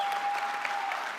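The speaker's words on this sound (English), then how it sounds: "I appreciate the applause." An audience at a debate on political correctness applauding: a short burst of dense, steady clapping from a large crowd, with no voices over it.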